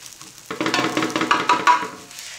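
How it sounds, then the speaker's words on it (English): A spoon presses and scrapes ginger fried rice flat in a hot pan, making a quick run of close, crackling sizzles and scrapes for about two seconds with no talking. "Use your spoon, flatten your rice up."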